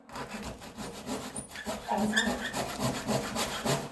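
A handsaw cuts through a wooden beam from underneath in a cellar, giving steady back-and-forth rasping strokes that are close and fairly loud, with no talking.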